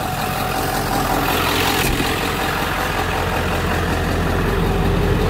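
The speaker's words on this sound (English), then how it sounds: "it's got the nice power stroke, smooth idle, not smoking" A Ford Power Stroke diesel engine idles in a heavy-duty truck, warm and not smoking, giving a steady close rumble that runs unchanged throughout with no talking over it.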